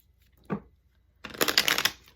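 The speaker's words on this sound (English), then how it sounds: "Okay, let's get a Lenormand." Lenormand deck cards being shuffled close up: a single short flick, a pause, then a quick riffling burst of crisp papery slaps, with no talking.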